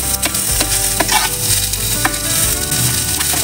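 Beans and broccoli stir-fry in a pan: a loud, steady sizzle runs throughout, broken by repeated clanks and scrapes of the stirring utensil against the pan, with no voices.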